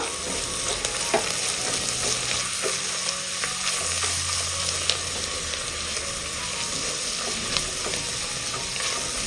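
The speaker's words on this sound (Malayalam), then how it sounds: "അപ്പോൾ അതിനനുസരിച്ച് എരിവ് ചേർത്ത് കൊടുക്കുക. ഇതൊന്ന് ഇളക്കി കൊടുക്കുക." Chili and pepper powder stirred into onion masala frying in a pan, with a continuous close sizzle and repeated scraping and clinking spatula strokes, no voices present.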